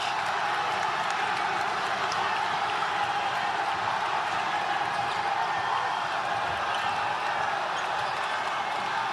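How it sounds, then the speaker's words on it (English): A high school basketball crowd roars after a driving play in a La Salle versus Father Judge game, a loud, steady wash of cheering and clapping filling the gym. "The crowd goes ballistic"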